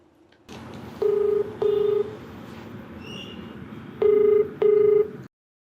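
A telephone number is keyed in for a call: four short, clear dialing tones in two spaced pairs sound over a low background hum.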